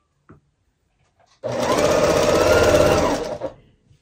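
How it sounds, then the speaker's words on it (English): A sewing machine runs in one steady two-second burst, stitching quilt star blocks with a fast, even mechanical whir close to the mic, set between near-silent pauses. "I'm just sewing away today."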